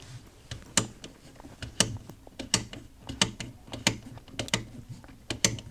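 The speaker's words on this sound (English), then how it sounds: "So now my windage turns nicely, but with resistance." Windage knob on an M1A or Garand rear peep sight being turned, a series of crisp, close mechanical clicks in an uneven ratcheting rhythm, with no voices.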